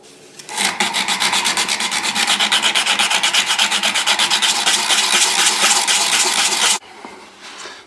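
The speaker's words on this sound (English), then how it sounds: "So we're almost done, just a few hours of sanding." Sandpaper rasps against a wooden spoon in quick, regular back-and-forth strokes for several seconds, then stops abruptly.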